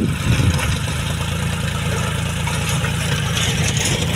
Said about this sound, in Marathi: इकडं मस्तपैकी ट्रॅक्टर चालू आहे आमच्या रानात